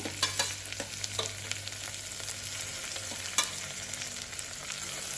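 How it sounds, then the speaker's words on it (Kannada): Chopped tomato and green chilies fry in a pan with a steady close sizzle and occasional stirring scrapes, with no talk. "ಇದನ್ನು ಸ್ವಲ್ಪ ಫ್ರೈ ಮಾಡಿಕೊಳ್ಬೇಕು."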